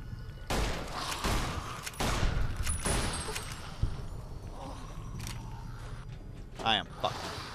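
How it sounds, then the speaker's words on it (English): Gunfire in the video game Fallout Frantics, heard as sharp bursts and volleys under loud, agitated talk, with shots scattered through the scene at close range. "I'm not the only one hearing that gunfire."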